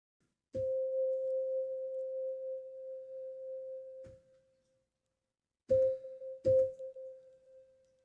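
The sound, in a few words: synthesizer sine wave tone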